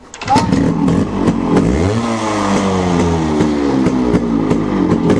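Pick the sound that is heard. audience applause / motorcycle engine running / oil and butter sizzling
motorcycle engine running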